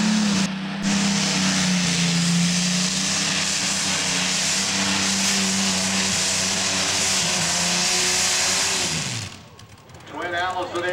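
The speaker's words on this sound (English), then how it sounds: "Twin Allison aircraft engines. A little bit of hesitation. You can hear them." A modified tractor with twin Allison aircraft engines roars at a tractor pull in Tomah, Wisconsin, a loud, steady, dense engine drone with a brief wavering dip in pitch before it dies down toward the end.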